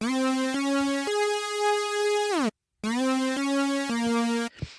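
A bright, buzzy unison saw-wave synth lead patched in Sytrus plays a loud sustained line of held notes that glide between pitches, with a brief full cut partway through before the phrase resumes alone.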